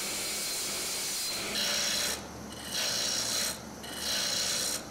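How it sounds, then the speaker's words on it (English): A small piece of wood slides out of a lumber rack in a woodworking shop, making three rough, scraping rubs in an uneven rhythm, close and fairly loud. "So I'm just gonna pull a small piece out of here for my footrest,"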